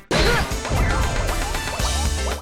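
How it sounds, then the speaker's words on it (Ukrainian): A punch to the head knocks a fighter down in the PlayStation fighting game Tobal 2, producing a loud, heavy crashing impact over continuous game music and effects, sustained and dense throughout. "Деякі фішки прикольні по типу нокдауну, які персонаж міг отримати з характерним звуком удару по його макітрі"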